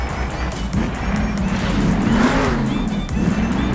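Monster truck engine in Monster Jam Steel Titans revving steadily as the truck powers from a stoppy into a wheelie, a continuous loud drone with rising pitch and faint tire noise, a voice talking over it.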